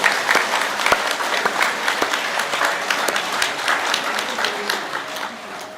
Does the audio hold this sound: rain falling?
no